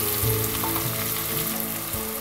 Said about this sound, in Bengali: একই সাথে এই টমেটো এবং আদা, রসুন, পেঁয়াজ এগুলো ভেজে নিতে হবে।